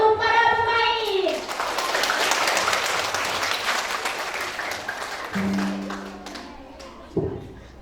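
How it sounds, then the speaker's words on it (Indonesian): An audience claps and cheers for the cast of a school drama performance. The applause is dense and sustained across the hall, with a voice over a microphone at the start and again near the end. "Beri tepuk tangan yang meriah untuk para pemain."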